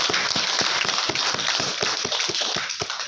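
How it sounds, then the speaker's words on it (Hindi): A few seconds of lively applause from a crowd, many hands clapping in a dense, continuous patter. "जोरदार तालियां"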